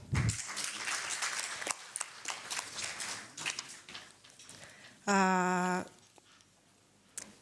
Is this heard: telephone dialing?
no